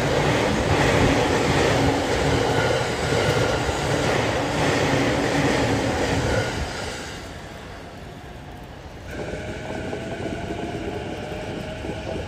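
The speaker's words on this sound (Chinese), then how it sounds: "看一下雪中的电车" An electric train passes through snow in Tokyo, rumbling loudly near the listener and then fading away, with a faint screech of wheels afterward.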